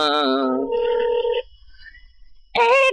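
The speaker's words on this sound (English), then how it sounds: "Answer the phone. Ooh, answer that phone." A telephone rings on a call, loud harmonic tones sounding twice, a long ring at the start and another at the end, with a quiet pause between.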